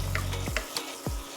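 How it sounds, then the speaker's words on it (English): Tomato paste fries in a pot for jollof rice, giving a steady close sizzle broken by a few quick scrapes and clanks as a spoon stirs it. "So I'm stirring in the tomato paste and also kind of cooking it,"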